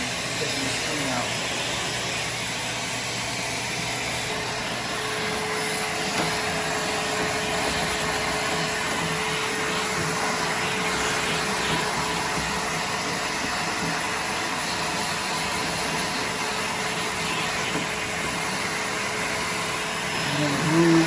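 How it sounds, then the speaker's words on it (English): A vacuum cleaner runs with a continuous whining hum from start to finish as it sucks up residue left from removing a screen during a DIY screen replacement. "About to clean this up and vacuum all this extra residue from taking the screen out."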